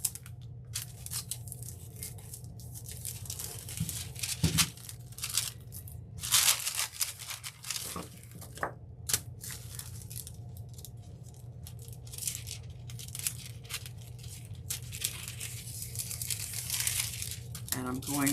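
Aluminium foil being handled and crinkled while covering cups, with bursts of crackly rustling scattered through the clip, some louder crumples standing out, over a low steady background hum and occasional talk.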